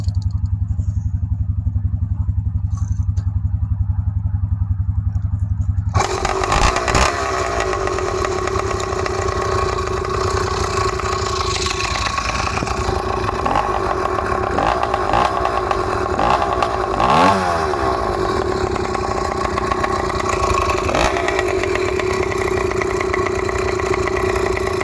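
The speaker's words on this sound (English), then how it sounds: "I'm gonna start up the pit, or I about call this the pit bike, the bicycle, and let you guys hear it" A small pit bike engine, already warm, starts with a sudden loud catch after a few seconds of a low hum, then settles into a steady, close, rattling idle that carries on unbroken.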